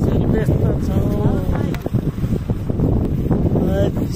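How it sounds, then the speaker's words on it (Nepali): Cold wind at a high mountain pass buffets the microphone in a loud, continuous low rumble, with a voice speaking over it. "एकदम हाइटमा चिसो हावा चलिरहेछ।"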